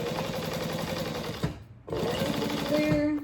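A sewing machine back stitches over a backpack strap connector, running in a steady loud whir that stops briefly and then resumes.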